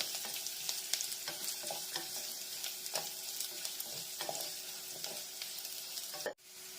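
Onions sizzle and fry in a pan on low heat while a spoon stirs them with soft repeated scrapes, ending with a brief thump.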